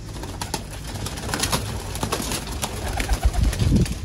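Lakha pigeons coo softly and repeatedly close by, with occasional rustling and light wing flutters under a steady background hiss.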